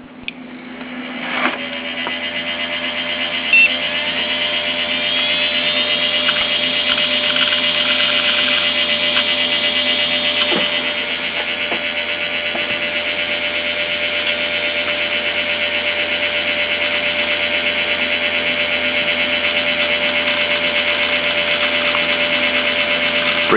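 A disassembled Maxtor hard drive in an old Windows 95 computer powers up, a click followed by a loud, steady whine and hum that drones on continuously with a few faint clicks.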